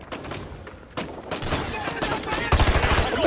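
Rapid bursts of gunfire from the Call of Duty video game, Modern Warfare 2 and Black Ops Cold War campaign, crack repeatedly and build in intensity toward a dense volley at the end.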